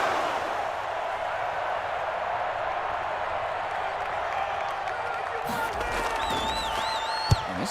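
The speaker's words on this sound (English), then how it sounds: "Oh, man, you hear this crowd." A football stadium crowd in Madden 21 roars steadily throughout, a broad continuous wash of cheering that swells slightly near the end.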